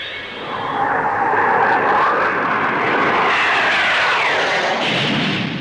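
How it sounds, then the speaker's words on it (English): A Blackburn NA-39 two-seat naval strike jet roars past at an air show, a loud sustained rushing engine noise that swells and shifts as it passes; no talking. "Blackburn Aircraft's contribution in the transonic field is the NA-39. A 2-seater strike aircraft for the Navy"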